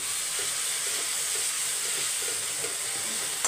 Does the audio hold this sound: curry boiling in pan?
yes